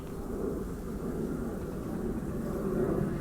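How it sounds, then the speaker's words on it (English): Steady low rumble of an airplane passing overhead on the approach path to Don Mueang Airport in Thailand, a continuous broad drone holding even loudness throughout with no talk. "You can hear the airplane flying overhead."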